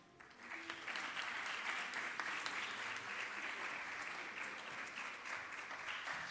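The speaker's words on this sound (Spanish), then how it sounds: "Se merece un aplauso el doctor." Audience at a medical videosymposium applauds a doctor with steady, dense clapping, moderately far and fairly quiet, sustained for several seconds without speech.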